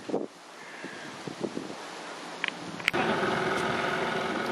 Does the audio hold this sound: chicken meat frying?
no